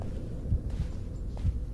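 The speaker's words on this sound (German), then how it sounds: "Also wir hören jetzt hier Herzklopfen" Heartbeat thumps in the Blair Witch VR video game, a low, muffled double pulse repeating steadily over a constant droning hum, close and alone with no talk.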